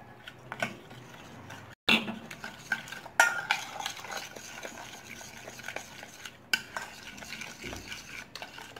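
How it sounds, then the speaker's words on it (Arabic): A spoon stirs a sugared dessert mixture as lemon is added a little at a time. Soft, quiet scraping and light clinks against the pot come in an uneven rhythm, with a few sharper knocks. "كنبداو نضيفوا الليمون بشويه بشويه مع التحريك"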